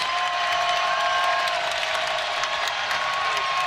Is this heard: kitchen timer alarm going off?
no